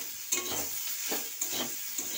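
A utensil scrapes and stirs mustard and cumin paste in a sizzling pan, with a few distinct knocking strokes against the metal over a continuous frying hiss, close up and with no voices.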